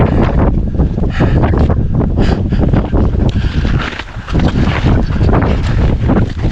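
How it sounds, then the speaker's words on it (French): Strong wind roars without letup during a mountain snowstorm, buffeting the microphone in a loud, dense rush that dips briefly midway, with no voices. "on prend le vent dans la gueule"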